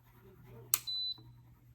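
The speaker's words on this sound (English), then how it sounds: "it starts at 0 and it gives you a beep" An electric nail file gives a single clean electronic beep as it switches on, a steady tone lasting about a quarter second after a brief click, heard close up over a low motor hum.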